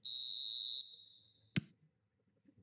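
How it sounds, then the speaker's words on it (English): A referee's whistle in eFootball gives one long, loud, steady blast that cuts off sharply, followed by a brief sharp knock and quiet background. "There's the whistle."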